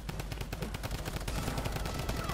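Rapid automatic gunfire in the video game Fortnite, a dense, continuous rattle of shots running the whole moment, fairly quiet in level but steady.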